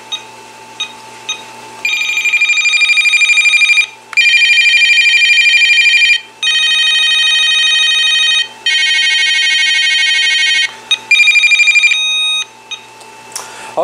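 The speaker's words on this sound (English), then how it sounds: "so that is the ringtones right there" Ringtones from a Vtech 2568 cordless telephone: loud electronic ringing bursts in several repeated patterns, separated by short pauses, with no voices over them.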